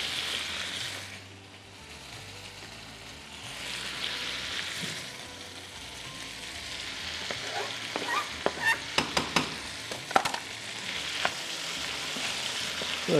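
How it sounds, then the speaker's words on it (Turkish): Chopped peppers frying in a hot pan, a steady sizzle with scraping and clattering as they are stirred, growing busier and more percussive toward the end. "Tekrardan biberlerimize içine ilave edelim."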